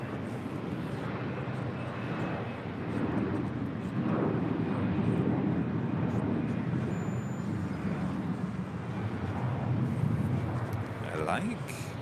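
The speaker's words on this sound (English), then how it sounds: "number 2 for arrival is a Western Global Airlines MD-11 freighter coming in from Honolulu" MD-11 freighter jet arriving at Los Angeles International Airport, a steady broad engine roar that swells slightly as it approaches, heard from a distance under faint background voices.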